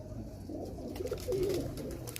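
Breeder pigeons in a Faisalabad loft coo in a low, rolling murmur, with one fuller throaty coo rising midway over a steady background hum.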